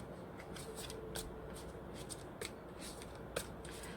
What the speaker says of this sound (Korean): 그럼 여러분들을 위한 조언 카드 한 장 뽑아보겠습니다